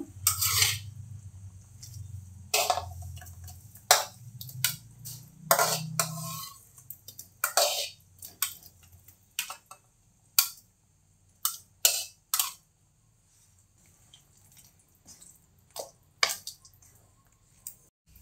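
Fried mushrooms dropped into a simmering masala gravy in a home kitchen, giving a low bubbling simmer at first, then a series of soft wet drips, plops and spoon taps, close and fairly quiet with no talk.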